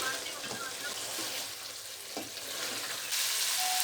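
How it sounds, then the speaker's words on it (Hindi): Chicken tikka boti sizzles steadily in a pan as it is fried, with a few soft stirring scrapes and a brighter hiss building near the end, no talking heard. "अब हम इसको अच्छी तरह भून लेंगे"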